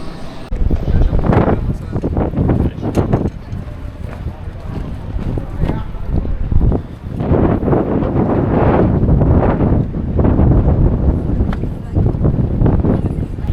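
Strong gusting wind at Portsmouth Harbour railway station buffets the microphone throughout, a loud low rumble that surges and eases, with occasional voices beneath it.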